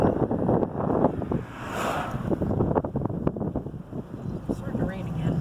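A rain-flooded creek rushes deep enough to form its own waves, a loud, continuous churning roar of water close by, mixed with gusty wind buffeting the microphone.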